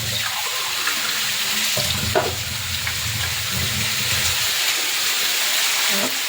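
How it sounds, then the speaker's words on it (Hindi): A glass of water splashes and gurgles into a sizzling pan of mushrooms and French beans for a couple of seconds, over a constant hiss of frying. "इसमें मैं पानी डाल देता हूँ पूरा गिलास।"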